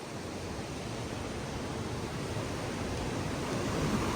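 Fast-flowing mountain river on the road between Harsil and Gangotri, a steady, dense roar of rushing water that stays constant and fairly near throughout, with no voices.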